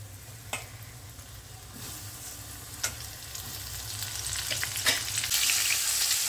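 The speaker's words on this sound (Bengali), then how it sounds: "এবারে আমি কর্নগুলো ভাজবো। প্রথমে তেল বসিয়ে গরম করে নিয়েছি," Corn kernels fry in hot white oil, giving a steady close sizzle with scattered sharp pops and crackles that grow denser and brighter toward the end, with no talking.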